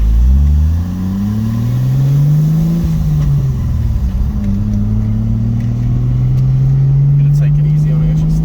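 A Mazda RX-7 FC that sat unused for 12 years, driven with a smooth six-cylinder-like engine note rising and falling through gear changes, loud and close, with people speaking over it.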